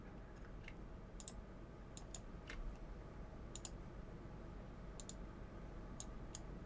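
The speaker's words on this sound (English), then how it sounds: "Sometimes I'm clicking and it's not actually registering" A computer mouse clicks in a sparse, irregular series of light, quiet taps over a low steady hum, with no talking.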